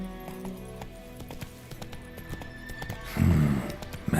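Roach, Geralt's horse in the video game The Witcher 3, runs with rapid hoofbeats and lets out a whinny, close and fairly loud over music and game ambience, with a louder burst near the end.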